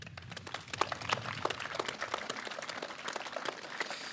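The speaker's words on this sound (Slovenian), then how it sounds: "En aplavz, prosim" An audience at a Slovenian Flag Day celebration gives quiet, distant applause. The clapping is dense and steady, made of many small overlapping claps spread across the whole stretch, with no talking.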